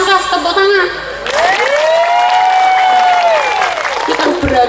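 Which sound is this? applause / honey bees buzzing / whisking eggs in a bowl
applause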